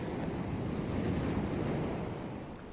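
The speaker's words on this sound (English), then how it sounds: "Listen to the sea." Sea waves wash and roar continuously in a dramatized reading of a classic novel, a broad, soft surf hiss with wind-like rumble that swells slightly and then eases toward the end, with no voices.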